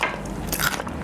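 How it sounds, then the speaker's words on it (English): A bite cracks into the crunchy caramelised sugar top of a crème brûlée, a short close crackling crunch heard alone and fairly loud. "Very crunchy on top, which is very important."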